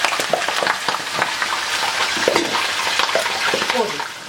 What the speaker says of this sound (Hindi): तेल हो चुका है यहाँ पे गर्म, इसमें आप ऐड करेंगे जो कि आपके मटन के पीसेस हैं